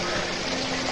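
Tokolangso waterfall in Karbi Anglong, Assam, a dense, steady rushing roar of falling water heard up close without a break.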